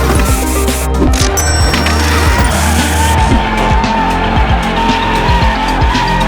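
Two nearly identical Nissan 350Zs driving hard on a track, engines roaring up close with tire squeal and skidding, continuous and loud throughout.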